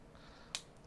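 A Twosun TS230 Ace titanium folding knife with a 14C28N blade flicks open with a single sharp, close metallic click, set against a quiet background.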